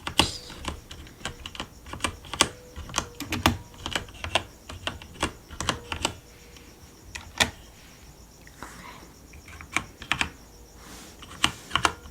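Close, soft-spoken ASMR-style typing on a keyboard in a librarian roleplay. Single keys are pressed at an unhurried, irregular pace, with sharper clacks now and then and a short lull partway through.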